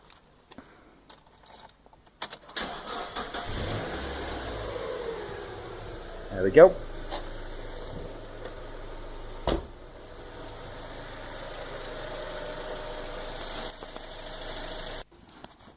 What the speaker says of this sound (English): we basically just start the car up and leave it running for 20 minutes